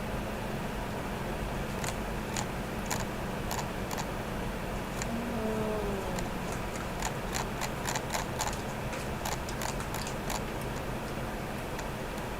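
Light keyboard typing with scattered irregular keystroke clicks over a steady fan-like hum, with no voices.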